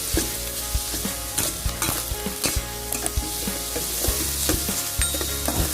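Chili and garlic stir-fried in a pan, a loud steady sizzle broken by sharp metallic scrapes and clacks of a spatula against the pan in an uneven rhythm, close by.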